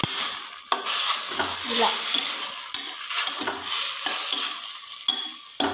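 Sliced onions sizzle loudly as they are stirred in a frying pan for a neti beera (ridge gourd) curry, with steady hissing and scraping of a spoon against the pan and a brief spoken word.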